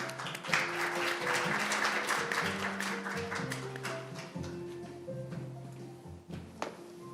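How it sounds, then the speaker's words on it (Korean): At the opening ceremony of an academic forum, a modest crowd claps to welcome the organizer to the podium; the moderate applause thins out over several seconds while soft sustained music plays underneath. "여러분 큰 박수로 맞아주시기 바랍니다"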